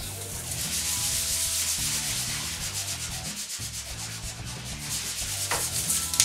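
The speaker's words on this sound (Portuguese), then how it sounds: "Agora eu vou vir com a lixa 150 para poder quebrar os arranhões da lixa 80" Hand sanding with 150-grit sandpaper on a Lifan panel during paint prep: steady, close back-and-forth rubbing strokes, a short pause midway, then more scraping passes.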